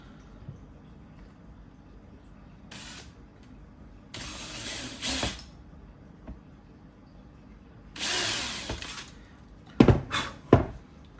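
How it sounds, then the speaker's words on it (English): A power drill pre-drills screw holes while a reverse osmosis water filter system is mounted, giving several short bursts of whirring and grinding separated by quiet pauses, with sharp clicks at the end. "and pre-drill my holes."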